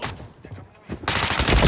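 Burst of video game gunfire from a battle royale shooter, a loud dense rattle of rapid shots erupting after a quieter stretch and continuing to the end.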